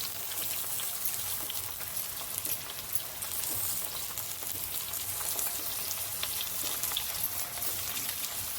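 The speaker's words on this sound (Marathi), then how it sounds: "तर आता अद्रक लसूण टाकून घेते आणि लगेच टमाटर टाकून घेते." Onions with ginger and garlic fry in a pan, a soft, steady crackling sizzle that holds evenly throughout without any talk.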